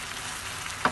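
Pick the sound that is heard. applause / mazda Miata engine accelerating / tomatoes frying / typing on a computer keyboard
tomatoes frying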